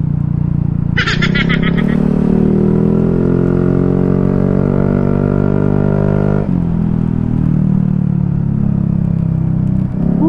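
A motorcycle with a silencer fitted to its muffler revs nearby, a loud, close engine drone that climbs and then falls back, with a brief higher rattle near the start.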